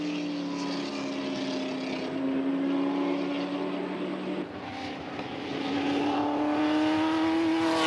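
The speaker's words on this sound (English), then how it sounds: "Moss goes through in the now smoking Mk IV, a longer and sleeker car than the earlier models" A Ford GT40 Mk IV race car, smoking, drones past on a racing circuit with a loud steady engine tone that shifts pitch midway as it goes by, the roar filling the whole stretch.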